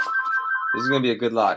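A phone rings with a steady electronic tone for under a second, then someone speaks over the tail end of the ringing indoors.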